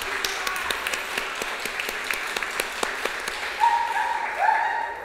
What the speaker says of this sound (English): We could give a big round of applause.